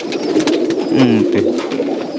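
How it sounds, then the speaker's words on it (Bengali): Domestic pigeons coo on a large farm of some 550 birds, a dense layer of low, throaty cooing and overlapping calls that fills the space continuously, with one nearer bird's rolling coo standing out midway. "আপনি সাড়ে পাঁচশো কবুতর পালন করছেন"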